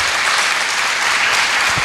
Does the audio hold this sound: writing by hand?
no